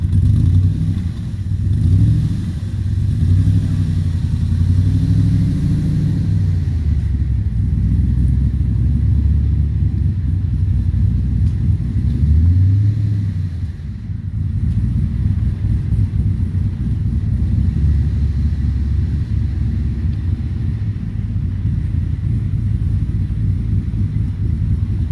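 A 1963 Corvette engine rumbles loud and close, rising with revs and then dropping back before pulling steadily again, with no talking.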